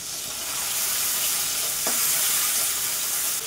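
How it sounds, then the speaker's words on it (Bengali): Tiny river shrimp fry crisp in hot oil in a pan, giving a steady, dense sizzle close by, with one brief stir near the middle and no voices. "এটা বাটা করব তো একটু কড়া করে ভাজবো"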